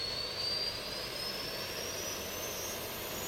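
The auxiliary power unit at the back of an airliner in the Prepar3D flight simulator runs with a steady, loud jet-like roar and a thin, slowly rising whine, heard from outside the aircraft without interruption.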